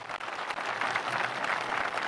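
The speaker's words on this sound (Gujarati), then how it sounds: "હાથ ઊંચા કરીને તાળીઓનો ગડગડાટ." Audience applause at a public gathering in Rajkot marking an organisational appointment, a dense, steady wash of many hands clapping that holds throughout, fairly loud and without speech.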